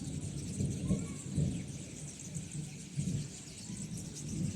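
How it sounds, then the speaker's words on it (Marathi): Thunder rolls low from heavy clouds ahead of unseasonal summer rain, in soft repeated rumbles over a faint steady hiss, distant and subdued, with no talking. "हे बघा ढग बी किती गरगडत आहे."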